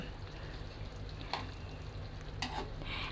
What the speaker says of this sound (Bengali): পাঁচফোড়নের গুঁড়ো দিয়ে মিশিয়ে দিব ভালো করে